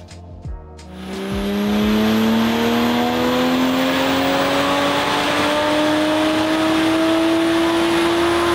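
A Toyota A90 Supra running on 93 octane pump gas starts and revs hard, the engine note climbing steadily into a loud sustained high-rpm drone, close and alone with no talk.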